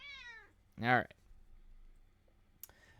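House cat indoors meowing while tea is poured, with one faint drawn-out meow and then a louder, sharper meow, followed by soft clicks and quiet room noise.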